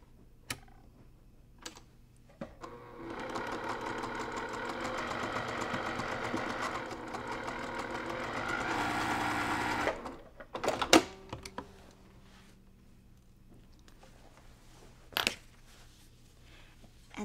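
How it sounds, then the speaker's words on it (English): A sewing machine runs steadily for several seconds, stitching the seam of a cross-stitch pillow, then stops, followed by scattered clicks and handling noises in a quiet room. "Okay, so now we're going to stitch directly on that line."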